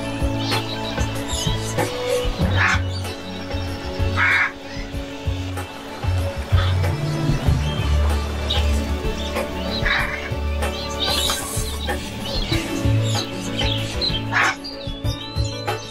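Busy chorus of parrot calls and squawks, with duck-like quacks and chirps layered over a steady low hum, continuous throughout.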